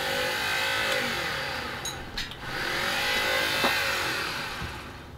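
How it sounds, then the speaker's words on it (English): The motor of a Razor Mini MX electric dirt bike under repair whines under throttle as it runs without moving, a close, steady electric hum that surges and dips a few times. "sounds like the motor's running"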